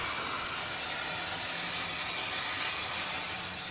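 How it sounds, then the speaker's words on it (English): Steam hisses steadily from a steam wagon as trapped water boils off against the hot boiler. The hiss is a continuous, broadband rush at close range that tapers slightly at the end, with no talk over it. "It's all the bloody water trapped inside the wagon that's being turned into steam by the heat from the boiler."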